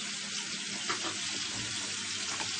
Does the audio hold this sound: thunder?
no